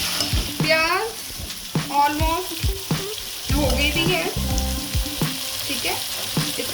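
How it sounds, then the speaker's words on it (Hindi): Onions frying on high flame for beef nihari, a loud crackling sizzle with bursts of stirring and scraping in the pan, close by, with a few faint tonal squeaks in between. "इसको हाई फ्लेम पे प्याज को भूनेंगे"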